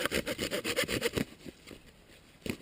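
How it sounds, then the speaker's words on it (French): A Fiskars folding saw cuts through a small branch with a quick, steady back-and-forth rasp of close, loud strokes, then stalls into a few scattered scrapes as the blade binds. "Donc là on va couper une petite branche, histoire que je vous montre comment ça fonctionne."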